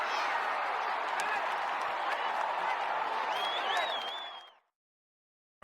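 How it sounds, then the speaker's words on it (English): Sustained applause and crowd noise fill the room, fairly loud and steady, then cut off abruptly into silence near the end. "Get the applause."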